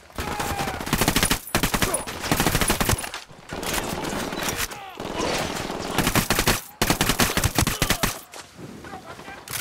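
Dense bursts of automatic rifle fire from enemies in the tactical shooter Ghost Recon Wildlands, rapid overlapping volleys rattling almost continuously with brief gaps, loud and close.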